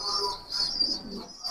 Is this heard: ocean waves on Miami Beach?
no